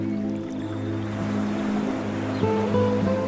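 Ocean surf washing onto a beach, a steady low rumbling wash with gentle swells rising and falling, continuous and fairly close, with no voices.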